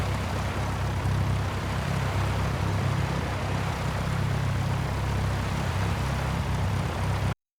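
In X-Plane 12, a Cessna 172 floatplane's propeller engine drones steadily and loudly in flight with a low rumble, holding constant throughout, then cutting off abruptly.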